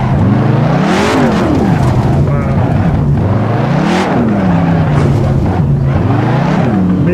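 A race car in Assetto Corsa, loud engine revving up and dropping through gear shifts in a repeating cycle, close and continuous throughout with a rising wail every few seconds.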